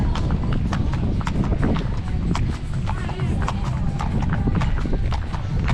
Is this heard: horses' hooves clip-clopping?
yes